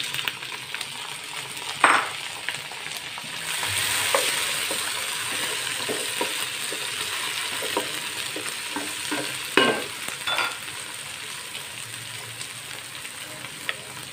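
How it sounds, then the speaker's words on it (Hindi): Chopped tomatoes and green chilies fry with dark-browned onions in a pan, giving a continuous sizzle broken by stirring scrapes and a few sharp utensil clinks against the pot. "अब मैं इसमें कटे हुए टमाटर और हरी मिर्च डालूँगी।"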